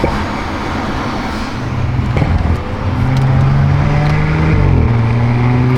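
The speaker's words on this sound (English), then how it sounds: "And listen to the turbos." Turbocharged Chevrolet Corvette in Sonoma Green accelerating, engine pitch climbing through gears with a shift near the end, loud and close over road noise, turbo whine layered on the rising drone.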